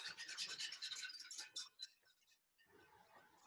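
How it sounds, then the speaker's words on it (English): A whisk scrapes and rubs quickly in a pan as butter is worked into chicken piccata sauce, a busy close scratching that trails off before a softer second stretch. "A little bit of whisking it up"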